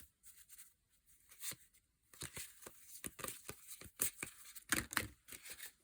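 Tarot cards being drawn and handled, giving quiet close-up papery rustles, slides and crisp flicks in an irregular sequence, with a denser cluster of snaps toward the end.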